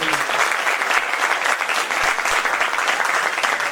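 An audience at a children's stage program applauds loudly and steadily. The clapping is a dense, continuous wash that holds at full strength for several seconds with no talking over it.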